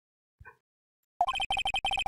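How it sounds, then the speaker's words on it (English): Cell phone ringing in the Phoenix Wright video game, an electronic ringtone starting after a short faint blip, then repeating in rapid regular beeping bursts, loud and close with no talking. "I hit that button and my phone started ringing."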